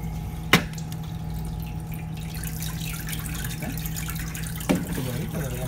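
Water running inside a Manitowoc commercial ice machine that keeps dumping water and makes no ice, a steady hiss and hum with a couple of sharp clicks, close by.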